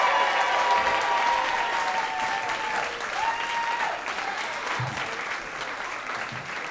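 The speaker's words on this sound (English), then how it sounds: "So please, big round of applause." Sustained, dense applause from a live comedy show audience, clapping steadily and loudly throughout with a few whoops and cheers mixed in, tapering only slightly toward the end.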